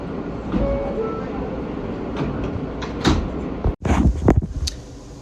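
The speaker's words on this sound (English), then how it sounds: "today we're going to be looking at the M train on the weekends" A New York subway M train running, with steady rumbling car noise, a few clanks and a sharp break followed by bursts of rattling.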